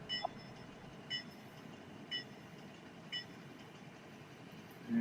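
A Bachmann model locomotive's bell rings in evenly spaced single clangs, about one per second, faint and metallic over a soft steady hum.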